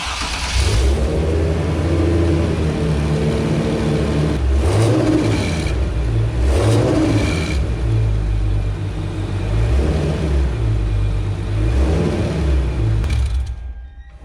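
A supercharged Hyundai Genesis Coupe 3.8 with an active exhaust idles loudly nearby, a steady deep rumble throughout with a few brief revs, fading at the end.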